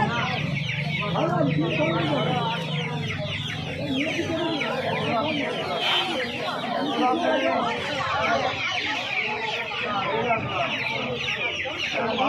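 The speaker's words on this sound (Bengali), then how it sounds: "এখানে 2 পিস ফাইটার মুরগির বাচ্চা রয়েছে দেখতে পাচ্ছ" Fighter chicken chicks and other fowl cluck and chirp continuously at a busy hen market in Uluberia, a dense close flock with people talking underneath.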